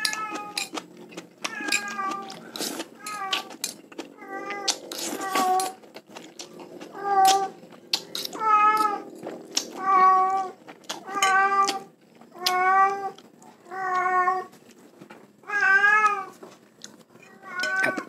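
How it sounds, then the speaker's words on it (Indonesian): A cat meows loudly and insistently indoors during cooking, giving about a dozen drawn-out, wavering cries in an irregular series that grow longer and more urgent. "Kucing gua berisik banget."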